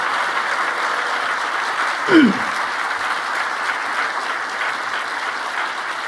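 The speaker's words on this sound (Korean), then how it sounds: "이렇게 박수 길게 나온 정도 흔치 않은 일입니다" A church congregation at a Sunday evening service gives long, sustained applause, an even wash of many hands clapping that continues throughout, with one brief louder vocal sound partway through.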